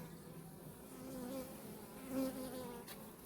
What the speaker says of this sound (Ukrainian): Ось така кількість на заставній бджіл.